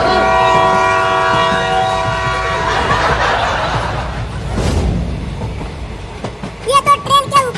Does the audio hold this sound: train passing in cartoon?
yes